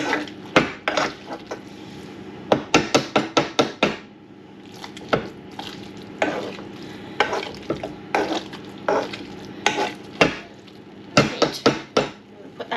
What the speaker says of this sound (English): But as you can see, it's no different to mashing a potato.